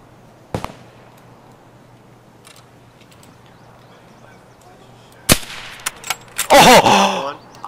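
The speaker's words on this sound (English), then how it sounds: "I'm about to take a shot." Sniper rifle shots in the video game Escape from Tarkov: a single sharp crack early on, then after a quiet stretch a second crack followed by a loud, dense burst of impacts and clatter near the end.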